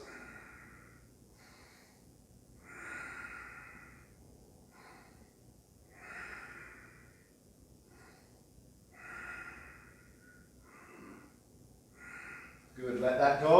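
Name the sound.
Ujjayi breathing during yoga twist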